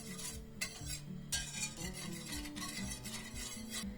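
Chocolate sauce being stirred steadily in a pot on the stove, a continuous scraping and clinking of the utensil against the pan with faint bubbling, close and fairly loud with no voices.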